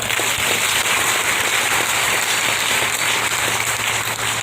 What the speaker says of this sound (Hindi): तो बिहार के लिए ताली हो जाए